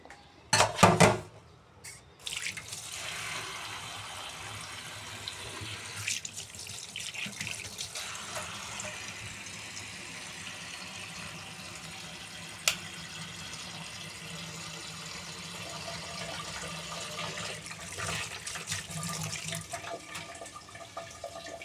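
Tap water runs steadily into a sink to soak freshly chopped small leafy greens in a home kitchen, a continuous close hiss and splash after a brief louder burst at the start.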